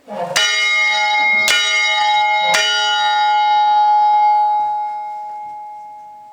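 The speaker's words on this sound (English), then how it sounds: "this bell was made in 1884 by Meneely and Company in Troy, New York." A large old fire alarm bell, made in 1884 by Meneely and Company of Troy, New York, is struck three times in slow succession, each loud clang ringing out with a long, shimmering metallic decay that lingers and fades.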